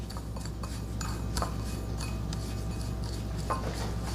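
Seasoning being stirred in a bowl for Jamaican escovitch fish, with light clinks and scrapes of a utensil against the dish, soft and close over a steady kitchen hum.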